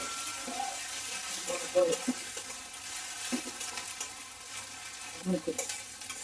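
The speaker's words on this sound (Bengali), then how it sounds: "হাফ চামচ রসুন বাটা চামচ আদা বাটা হাফ চামচ মরিচ বাটা দিয়ে কিছুক্ষণ ভেজে নিব" Garlic, ginger and chili paste frying in a pan for a fish kalia, a steady soft sizzle with occasional stirring scrapes and clinks, close and moderately quiet.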